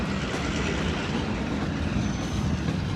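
A long freight train rolls past at night at Hicksville, a steady dense rumble with faint clickety-clack of wheels on rail, continuous and fairly close throughout with no talking.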